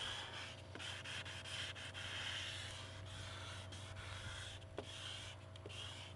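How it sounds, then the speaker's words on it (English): Steady back-and-forth rasping of a 600 grit sanding block on a yellowed acrylic headlight lens, faint and close, with a low hum beneath and a few small clicks. "Keep sanding the entire surface until all of the yellowed acrylic is gone."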